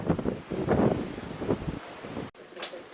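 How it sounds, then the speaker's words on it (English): Strong wind buffets the microphone in roaring gusts, then a sudden break before it picks up again, close and loud. "because of wind. I'm sure you can hear it,"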